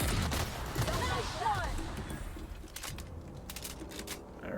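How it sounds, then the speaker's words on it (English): Grenade launcher fire and explosions from combat in the game Outer Worlds, dense bursts and crunching blasts layered with game effects across the clip. "Blind. And grenade launcher."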